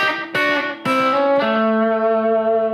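A second country guitar lick, played with hybrid or chicken picking: three sharp plucked attacks, each ringing out into sustained bright tones, clean and close with no talking.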